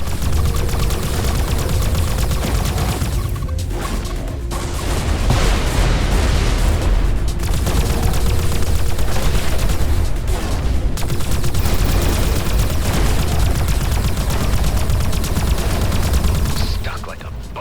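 Missile explosions and rapid gunfire crash through a space dogfight in the game Everspace 2, a dense, continuous roar of blasts and bursts lasting throughout with only brief dips.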